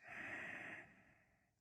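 One slow, soft breath during a yoga stretch, a hushed airy exhale that holds for a moment and then fades out, quiet and close with no talking.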